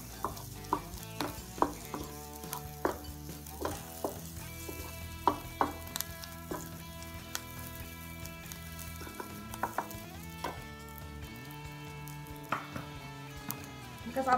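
Chicken pieces fry for paella with seafood in a pan, giving a steady close sizzle broken by frequent sharp clinks and scrapes of a utensil stirring against the metal, no voices.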